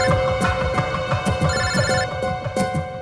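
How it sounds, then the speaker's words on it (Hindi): A telephone rings with a steady electronic ringtone, loud and continuous, in a tense crime-drama police scene, with no talk over it. "एसीपी साहब का फोन।"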